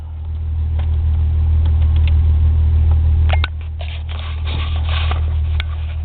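A 1985 Toyota Celica Supra, a rust-worn car, runs steadily with a loud, constant low engine drone throughout, plus light rattles and a small thump partway through. No one speaks.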